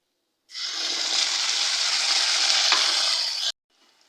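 Spice paste hits a hot pan with a sudden loud hiss that holds steady for about three seconds, then cuts off abruptly and leaves only a faint trace afterwards.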